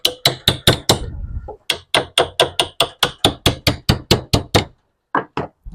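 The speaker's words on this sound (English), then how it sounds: "now we can use a hammer if we want." Hammer blows on a metal bracket of a Jiffy Pop Handle 9000 popcorn cooker, a rapid run of sharp, close knocks in steady rhythm, a short pause, then another long even series and two final strikes.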